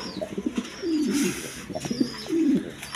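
A large breeding pair of domestic pigeons for sale gives soft, rolling coos, two clear calls with faint rustling and small clicks between them, close and moderately quiet.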